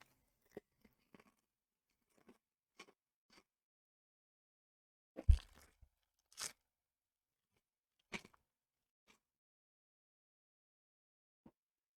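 Sparse, crisp crunches of seasoned pork rinds being bitten and chewed, separated by long quiet gaps.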